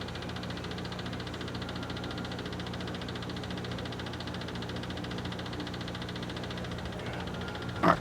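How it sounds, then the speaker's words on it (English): The fuel pump runs on a 1972 VW Bus fitted with a new 38mm carburetor, making a steady, even mechanical hum with a faint rapid ticking that continues unbroken and ends in a brief clunk. "I can hear the pump running"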